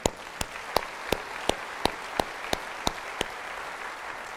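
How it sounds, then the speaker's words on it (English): An audience at a city's annual state-of-the-city event applauds, with sharp, evenly spaced claps standing out above a softer, continuous spread of clapping that fades toward the end. "that deserves a round of applause"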